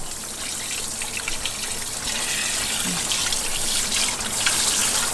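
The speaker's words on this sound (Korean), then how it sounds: "이제 깨끗이 세척해 보겠습니다." Mackerel rinsed clean under a running kitchen tap, a steady close splashing hiss of water falling into a sink, continuous throughout with small shifts as the fish is handled.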